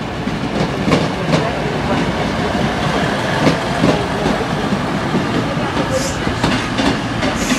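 A former New York Central train rolls along the rails with rhythmic clickety-clack of wheels over joints, a steady close rumble throughout and a brief faint squeal near the end.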